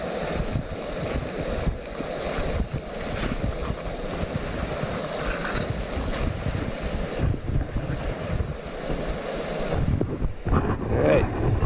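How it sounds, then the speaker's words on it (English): Fuel keeps hissing out of an MSR WindPro II stove after its valve is shut, a close, continuous airy rush with gusty unevenness that swells and shifts toward the end, with no talking. "despite the valve being off, you can hear the fuel still vaporizing out"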